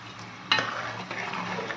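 Spices for tempering (popu) hit hot oil while making tomato chutney, a sudden sharp crackle followed by a steady close sizzle that carries on softly with faint stirring, no talking.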